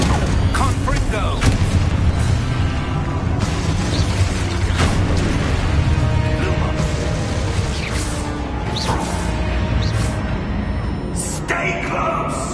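Confringo spell blasts and explosions burst repeatedly in Hogwarts Legacy, a loud series of booms and sharp crackling impacts over dense combat noise. Voices shout through the action.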